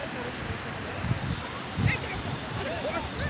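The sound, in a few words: sea waves at Velas beach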